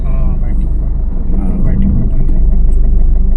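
A car engine runs during a driving lesson, a steady, loud low rumble that carries on throughout while people talk over it.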